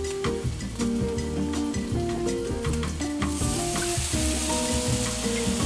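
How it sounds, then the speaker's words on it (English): Enchilada tortillas frying in a pan of hot oil give a loud, continuous close sizzle with occasional scraping and clinks, the frying swelling brighter toward the end. "keep them warm while I fry them all up"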